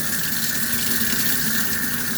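Tap water runs steadily and loudly as sponges from a Fluval 406 canister filter are rinsed under it. The hiss is close and continuous, with no talk.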